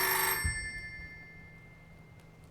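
An old-fashioned telephone bell rings in a mansion study in a radio drama, one loud ring that cuts off, then near silence before a new burst starts at the end.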